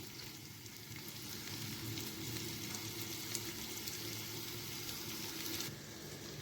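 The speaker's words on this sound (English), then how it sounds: "I'm going to transfer all this into the veggies and stir them up so that they can begin to cook together" Minced beef and vegetables sizzle and fry steadily in a pan, with a soft continuous crackle and occasional stirring, close and moderately quiet, no talking.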